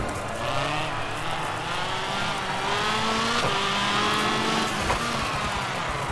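Rally car in WRC 2 on a PS3 rally stage, engine droning and revving steadily with rising and falling pitch as gears shift, close and continuous, no talking heard.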